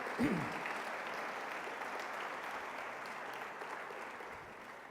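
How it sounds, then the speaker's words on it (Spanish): A church congregation applauding during a Spanish-language service, soft, even clapping that sounds distant and sustained, with a brief voice at the start. "Le damos un aplauso al Señor, hermano, esta mañana"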